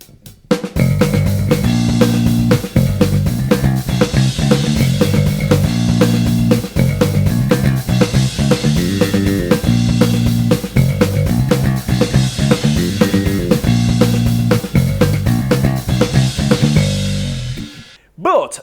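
Full-band rock playback of the main pre-verse riff, with bass guitar following the guitar line in a driving, fast thrash-style rhythm under drums, loud and continuous, stopping abruptly near the end.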